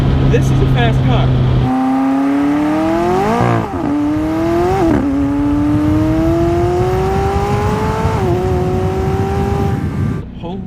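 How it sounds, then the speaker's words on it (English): A McLaren 600LT sports car engine roars close up, its pitch climbing sharply through several gears with brief dips at each shift, loud and continuous. "This is a fast car."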